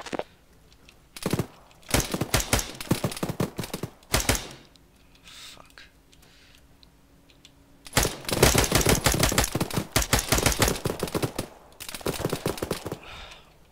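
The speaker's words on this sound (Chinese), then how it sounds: "他旁边还有一个敌人在朝我开火" Enemy soldier gunfire in the video game Arma 3 comes in sharp, rapid automatic bursts, with several loud volleys separated by quieter pauses.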